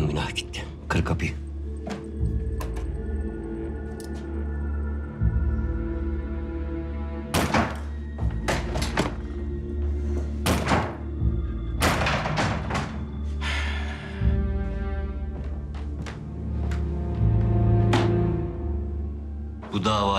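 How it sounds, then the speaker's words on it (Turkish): Repeated heavy thunks and thuds of a door being forced and broken in ring out loudly at uneven intervals, with tense dramatic music underneath and occasional voices. "Kır kapıyı."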